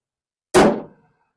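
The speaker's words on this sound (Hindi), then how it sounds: "ट्रैक्टर के बोनट को हम जब भी बंद करें वो धड़ाम से बंद ना हो, ज़्यादा आवाज़ ना करे" The bonnet of a Farmtrac 45 Powermax tractor shuts with a single sharp metallic clang, close and loud, ringing briefly before decaying to silence.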